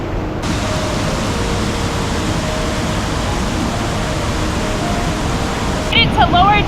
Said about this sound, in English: And you have little waterfalls.